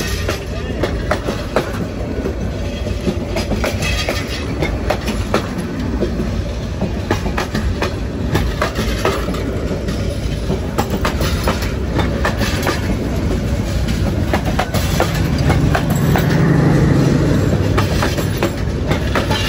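The Chattala Express, a long passenger train, passes close by at Nangalkot Bazar in the rain, giving a loud, continuous roar with rhythmic clickety-clack of wheels over rail joints throughout.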